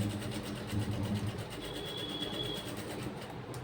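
Sewing machine stitching the side chain of a blouse, a steady rapid mechanical whirr with fast rhythmic needle pulses running continuously at close range.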